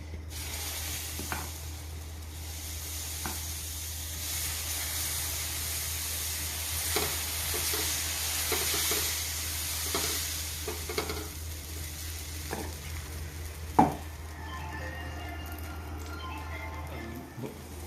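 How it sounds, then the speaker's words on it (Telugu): Moong dal pesarattu batter hits a hot pan and sizzles steadily, a continuous frying hiss with stirring scrapes and a few sharp clicks, no voices. "పెనం కాలుతా ఉందండి పెసరట్టు పిండి ఉందండి వేస్తున్నాను"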